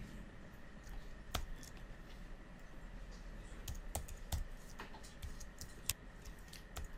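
Fingers tap on a computer keyboard, giving sparse, irregular key clicks over a faint steady room hum, quiet and close, with no talking.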